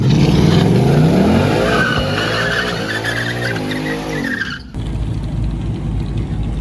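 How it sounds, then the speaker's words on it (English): A race car doing a burnout, loud tire squeal and skidding rising and falling over a revving engine for several seconds, then cutting abruptly to a low rumble. "See if he can pull off a burnout."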